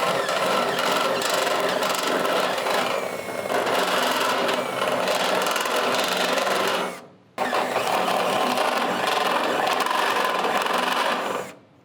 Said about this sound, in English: We're going to drill that out using the step bit.